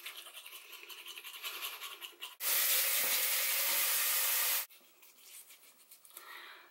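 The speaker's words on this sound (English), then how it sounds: "So brush my teeth right quick." Toothbrush scrubbing teeth in close, rhythmic rasping strokes, broken by a louder steady burst of about two seconds in the middle, with no talk.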